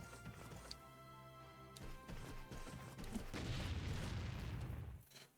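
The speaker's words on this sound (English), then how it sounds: "More explosions." Explosions in the video game Final Fantasy VII Ever Crisis, a sharp crash followed by a build of rumbling, crackling blasts that swell and then cut off, faint in the mix with no talk.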